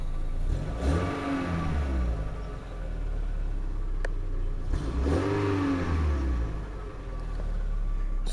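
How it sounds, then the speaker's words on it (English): A 1998 Volkswagen Beetle engine revved while parked, rising in two strong swells and falling back to idle, close and alone with no talk. "this thing revs nice"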